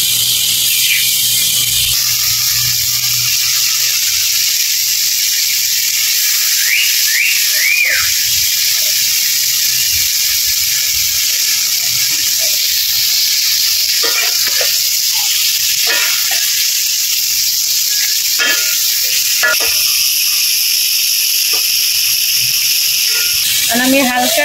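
Hilsa fish frying in a mustard spice masala in a village kitchen, giving a steady, loud sizzling hiss that runs the whole time, with a few faint clinks and knocks on top.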